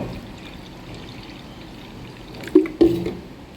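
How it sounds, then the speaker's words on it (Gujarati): Water is poured into a pressure cooker for boiling mixed dal, a steady close pour of running liquid, followed near the end by two brief clunks of metal. "એમાં જરૂર પ્રમાણે પાણી લઈ લઈશું."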